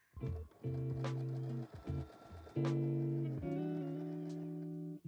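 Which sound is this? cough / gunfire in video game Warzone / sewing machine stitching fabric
sewing machine stitching fabric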